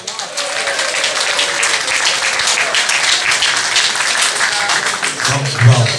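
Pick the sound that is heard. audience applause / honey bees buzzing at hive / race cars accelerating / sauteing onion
audience applause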